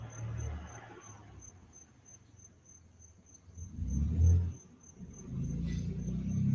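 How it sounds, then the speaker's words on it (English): Crickets chirp steadily outdoors at night in a continuous high, thin trill, with low rumbles and background noise rising and falling underneath. "the crickets are getting too loud and that's annoying for you guys"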